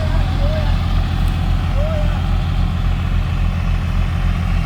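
A John Deere 5050D or New Holland 3600-2 4WD tractor in a field demo runs in first gear low range, its diesel engine giving a steady, close, loud low thrumming rumble with regular pulsing.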